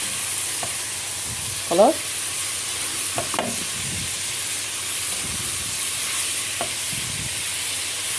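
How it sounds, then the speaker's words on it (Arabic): Shrimp with salt, pepper, cumin, Turkish spices and a little chili frying in a pan for Port Said-style madfouna, steady soft sizzle with a few scraping stirs, a brief word spoken. "قلبناهم مع بعض مع البهارات كده اهي"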